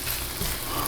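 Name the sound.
bacon sizzling in a pan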